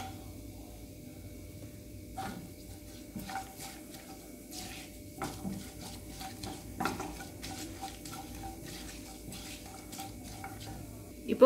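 Cashews stirred in a pan while cooking potato masala curry, with soft scraping and light clinks of a spoon against metal, fairly quiet and intermittent over a steady low background.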